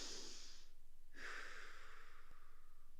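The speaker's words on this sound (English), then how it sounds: "Take 2 more breaths." Slow, deep breaths during a yoga pose, a long exhale followed by another drawn-out breath, soft and close in a quiet room.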